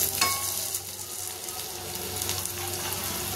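Vegetable fritters (bora) fry in oil over a high gas flame, a steady close sizzle with bubbling crackle and a few sharper spatters and clinks, with no talking.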